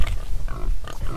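Pig grunting in a rural outdoor setting, a few short rough grunts in quick succession, close and fairly loud, with no talk over them.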